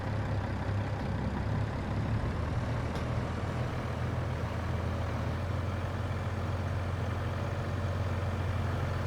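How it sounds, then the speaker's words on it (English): A truck engine in Farming Simulator 22 idles with a steady low rumble, a constant drone held throughout with one brief hiss partway in. "Now I'm going to take this truck and I'm going to take it to our yard"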